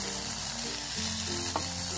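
Tomatoes drop into a pan of frying onions, a brief close sizzle with a low hum under it and a small sharp knock midway.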